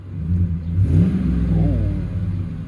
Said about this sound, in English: why don't we just can we rev it a little bit?